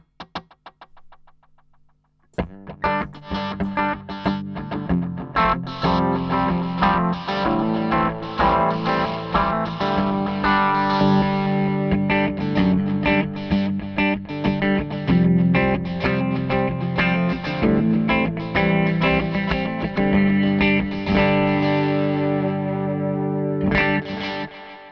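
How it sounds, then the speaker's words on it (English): Guitar runs through a rhythmical multi-head Binson Echorec style delay, a dense, continuous pattern of cascading repeats building after a short opening note and holding steady to the end. "I believe this is a Binson Echo Rec style thing, so it's kind of got multi-heads going on."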